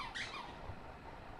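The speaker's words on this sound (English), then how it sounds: "but the dolphin squeaks" A rubber toy dolphin gives one short, high squeak near the start, at close range, followed by a quiet room with no talk.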